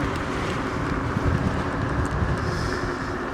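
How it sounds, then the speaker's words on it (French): Heavy wind buffets the microphone, a constant loud low rumble that drowns out everything else. "Ah, j'ai un vent de malade."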